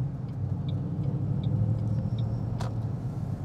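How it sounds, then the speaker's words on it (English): A custom 2007 Ford Mustang GT drives along with a steady, close engine rumble under a continuous road drone, with no voices. "I was going through the gears there. First, second, third gear."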